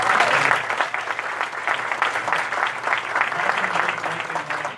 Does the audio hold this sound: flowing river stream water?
no